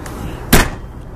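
The pass-through door on a 2018 Lakota Big Horn 4H living-quarters horse trailer closing, a single sharp, close slam amid quiet background.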